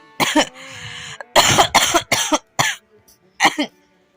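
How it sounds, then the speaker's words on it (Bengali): Someone at home at bedtime coughs repeatedly in a run of loud, harsh bursts close to the mic, several in quick succession with short gaps and a final pair after a pause. "এক মিনিট পর পর কাশি"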